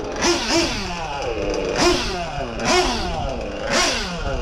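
A nitro-powered RC car engine idles close by with a steady buzzing drone, rising in short revving swells about once a second as the idle is raised. The engine is fairly loud and heard alone.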